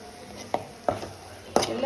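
A spoon stirs okra (lady's finger/bhindi) with coriander, cumin and turmeric powder in a pan, making three distinct close scraping strokes at uneven intervals over a faint low sizzle.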